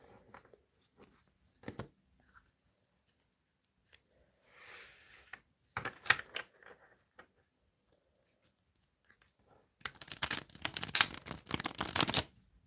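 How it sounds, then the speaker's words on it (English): Tarot cards shuffled by hand nearby, a few soft isolated rustles and taps early on, then a dense burst of rapid riffling and slapping toward the end in an otherwise quiet room. "let's have a right good shuffle"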